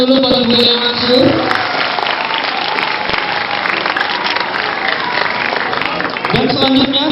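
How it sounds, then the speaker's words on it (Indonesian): Audience at a school socialization event applauding steadily for about seven seconds, a loud continuous wash of clapping from a crowd, with a voice briefly audible at the start and end. "Boleh tepuk tangan dulu bagi Bu Elia Mansur."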